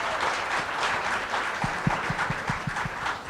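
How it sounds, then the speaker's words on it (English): An audience at a national drone awards ceremony applauds steadily, with a dense wash of clapping and a few louder individual claps standing out near the middle. "Please give them a round of applause for answering all these questions."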